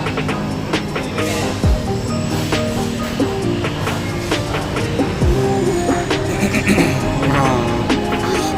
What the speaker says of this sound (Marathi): बघा चालली आहे ही मेट्रो